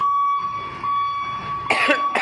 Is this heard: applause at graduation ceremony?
no